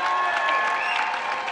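An audience applauds a graduating class at a Daystar University graduation ceremony, with steady, dense clapping from a large crowd throughout, loud and continuous with no voices over it.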